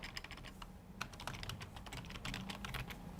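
Fingers tap rapidly on a computer keyboard while a product name is entered into an online store listing form, a quiet, close, irregular patter of clicky keystrokes with no talking.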